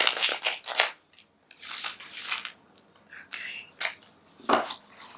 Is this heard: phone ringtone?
no